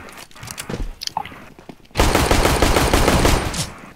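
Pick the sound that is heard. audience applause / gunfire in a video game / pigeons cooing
gunfire in a video game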